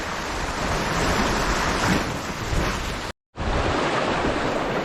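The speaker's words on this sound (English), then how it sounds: "that swell is coming up, rushing up and smashing back down" Ocean swell surging up the rocks and smashing back down along the Irish coast, a loud, continuous roar of surf and wind with a brief cut-out near the end.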